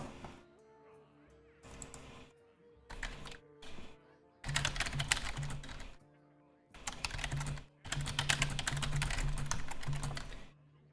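Bursts of rapid clicking on a computer keyboard, close and fairly loud, coming in several separate runs of a second or two with short pauses between them, over a faint background hum.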